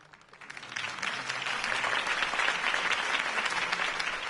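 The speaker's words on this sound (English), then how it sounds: "could have heard that applause" Steady video game applause from a sizable crowd, swelling in over the first second and holding at a full, even level with no talking.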